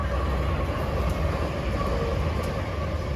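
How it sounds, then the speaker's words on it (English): A BNSF maintenance-of-way train led by locomotive 6003 passes as a loud, steady, broadband rumble with constant rail and engine roar and no talking. "First train of the day is a Bnsf MOW train led by Bnsf 6003"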